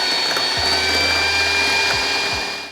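An electric mixer whips cream flavoured with pineapple essence and citric acid, its loud, steady motor whine running throughout with a few brief clicks and knocks near the bowl.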